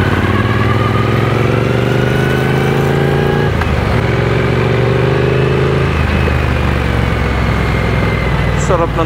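Stock Triumph Speed Twin 900 motorcycle engine running close by, a loud, steady twin-cylinder drone with a shift in pitch midway as revs change, continuous throughout.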